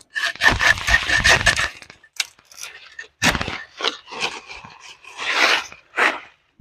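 Rough rhythmic rasping of a hand saw cutting through a guava tree branch, a run of quick strokes, then pauses and a few scattered strokes, close up.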